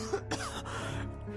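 A man coughs and clears his throat a couple of times, close and fairly quiet, in a Hindi narrated story.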